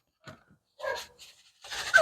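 A puppy pants and whimpers nearby in a few short, soft bursts, with quiet gaps between them.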